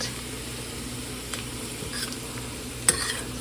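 Sesame seeds toasting in a pan with the heat switched off give a faint, steady sizzle, broken by a few soft ticks and one sharper click near the end.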